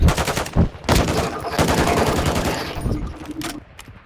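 Rapid automatic gunfire in an online shooter game rattles in loud bursts, with short pauses between volleys as enemies are targeted.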